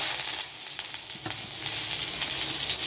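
Curry leaves crackle and sizzle sharply as they hit hot oil, a loud close hiss with quick spattering pops running steadily through.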